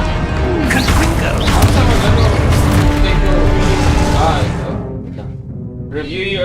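Confringo blasting spell going off in the Hogwarts Legacy video game, a dense loud crash and boom burst with layered game effects and music, fading toward the end, with a voice talking over it.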